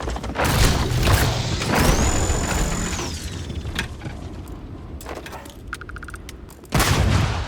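Grenade blasts and scattered combat noise in the video game Crew of the Dauntless, with several broadband bursts, a rising electronic whine and mechanical clatter, ending in a loud final burst.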